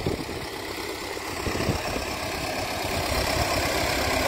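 A turbocharged D-240 diesel in an MTZ 1025 tractor idles steadily, a continuous low, rough rumble that stays even throughout, close by with no talk.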